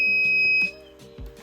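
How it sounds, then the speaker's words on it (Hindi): An ESP32-driven alarm buzzer, triggered when an AI vision system detects a leopard, emits a steady, shrill tone for about half a second before cutting off, followed by a few low thumps. "अगर डिटेक्ट होता है तो हमारा जो बज़र है वो ऑन हो जाता है"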